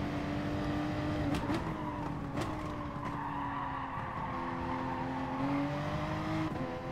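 A Group 3 race car in Gran Turismo Sport laps the Sardegna road course, the engine droning steadily with early upshifts audible as repeated drops in pitch, along with a faint tire squeal.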